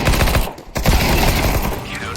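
Rapid, dense P90 gunfire in the Counter-Strike video game, loud and close, continuous bursts with a brief pause, with a voice talking under the shots.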